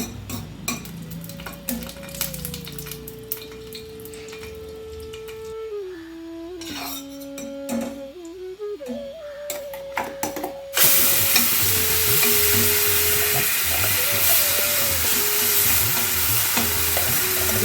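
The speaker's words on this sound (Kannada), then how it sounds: "ಸ್ವಲ್ಪ ಫ್ರೈ ಮಾಡಿಕೊಂಡು ಇವಾಗ ಇದಕ್ಕೆ ರುಬ್ಬಿಟ್ಕೊಂಡಿರೋ ಅಂಥ ಮಿಶ್ರಣನ ಹಾಕೋಣ" Steady sizzling and frying with scraping stirring in a pan for malai methi matar, growing louder and brighter partway through as a ground spice paste is added.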